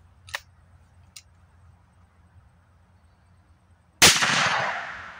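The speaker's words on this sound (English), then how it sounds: "I'm gonna shoot this high brass load." A shotgun fires a single high brass load shell: two small clicks of handling come first, then one sharp, loud blast with a long, fading echo.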